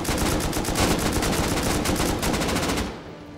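Rapid automatic gunfire rattles during a base raid in the survival video game Rust, a dense, loud, continuous stream of shots lasting about three seconds before cutting off abruptly.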